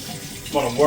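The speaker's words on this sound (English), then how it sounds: "Let's get some hot water in this." Hot water runs from a tap into a cup, a short watery gush that grows louder as the flow strengthens, close by and alone.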